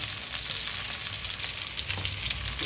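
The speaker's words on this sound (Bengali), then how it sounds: "ফোড়নগুলো ফুটে উঠেছে, এখন কাঁকরোলগুলো দিয়ে দিচ্ছি" Spiny gourd (kakrol) hits hot oil with sputtering spices, producing a dense, continuous crackling sizzle, close and loud, with no talking.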